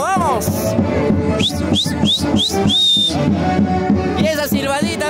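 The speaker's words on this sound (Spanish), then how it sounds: "Y esa silbadita, a ver la silbadita santiaguera." Whistling at a lively baptism party, several short rising whistles in a quick run then one longer whistle, loud over dance music and crowd noise.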